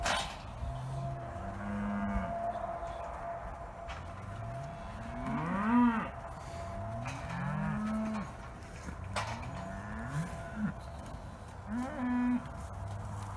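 Cattle in a corral during vaccination moo repeatedly, several overlapping low calls from nearby and farther off, over a steady background of ranch noise.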